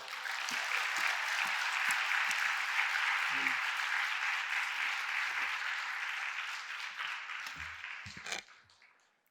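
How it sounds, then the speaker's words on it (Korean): A church congregation gives sustained applause for a guest pastor at a Friday late-night prayer service, a dense steady roar of clapping that carries on for several seconds before tapering off. "나오실 때 큰 박수로 우리 박수해 주세요"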